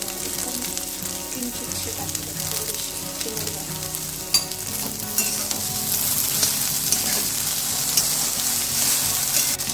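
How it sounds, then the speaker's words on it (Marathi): Sliced okra sautéing in an open pan with a pinch of turmeric, a steady close sizzle and crackle running throughout, with occasional scrapes and stirring clatter and no talking. "छान दोन मिनिट परतून घ्यायचे आहे"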